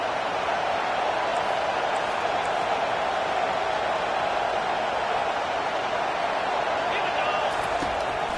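Stadium crowd in a football video game, a steady, dense roar that holds at an even level throughout with no distinct peaks or pauses.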